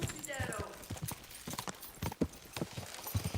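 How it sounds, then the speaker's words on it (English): Horse hooves gallop in a rapid, uneven clip-clop rhythm in the medieval game Kingdom Come: Deliverance 2, fairly close, with shouted voices over the hoofbeats. "My horse is slowing down."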